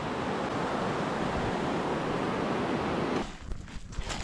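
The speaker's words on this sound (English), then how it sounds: "Sawyer Rapids." Whitewater at Sawyer Rapids in Algonquin Provincial Park rushes in a loud, steady roar, then drops away abruptly near the end, leaving quieter scattered rustling and handling noises.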